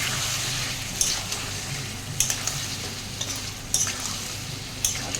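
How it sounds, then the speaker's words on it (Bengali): Tomatoes fry in a pan for a boal fish curry with potato and onion. A steady, close sizzle carries throughout, broken by a few sharp clicks from a stirring spoon. "আবার ভাজবো একটু টমেটোটাও দিলাম"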